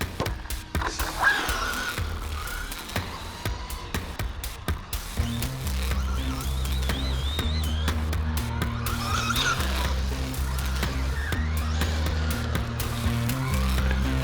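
An RC10T radio-controlled truck fitted with a 26-tooth pinion runs on wet grass. Its electric motor whines steadily and continuously, with higher scrabbling and skidding tire noise over the top.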